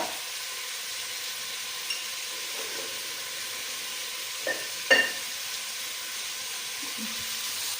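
Chunks of sweet pumpkin fry in hot oil for a palya, giving a steady soft sizzle and hiss broken by a few brief stirring knocks, close and alone without talk.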